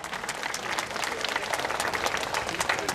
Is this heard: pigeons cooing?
no